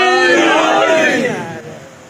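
A large crowd at a religious gathering roars the slogan Naara-e-Haidari in unison, a loud massed shout that swells and then fades away.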